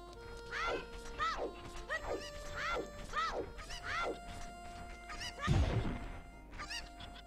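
Cucco chickens in Zelda Ocarina of Time give a rapid series of sharp, descending squawks, repeated one after another, with a loud crashing thud partway through before the clucking resumes.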